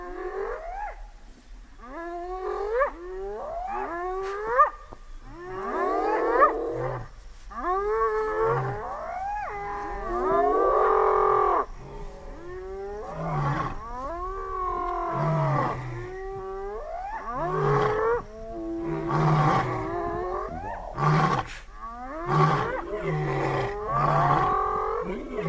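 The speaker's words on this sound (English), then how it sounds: "So you can hear the hyenas whooping, lions roaring" Lions roaring and hyenas whooping in the African bush at night: a long series of rising whoops and deep, groaning calls, some overlapping, moderately loud against a low steady background hum.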